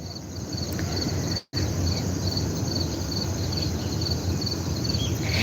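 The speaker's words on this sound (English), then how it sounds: "the sound of the crickets and the sounds of the birds" Crickets chirp in a continuous high, shrill drone over a soft outdoor background on a front porch at a late hour, with a brief dropout partway through.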